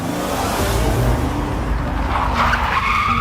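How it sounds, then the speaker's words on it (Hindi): A cartoon car brakes to a halt at the gate of a fair, its tyres letting out a long, loud, continuous skid that rises in pitch near the end. "मेले के दरवाजे के पास आते ही गुल्ली गाड़ी रोक देता है"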